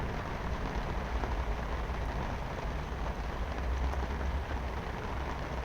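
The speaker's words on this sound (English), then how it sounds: "But anyways, a lot of rain." Heavy rain coming down steadily during a stormy day, a dense unbroken hiss and patter that stays loud and constant throughout, with no voices.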